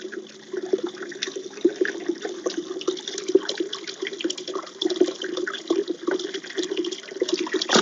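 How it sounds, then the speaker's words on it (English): Water from a fast-flowing spring pours and splashes continuously, a close, steady gurgling stream with no talking. "So this is my fastest flowing spring."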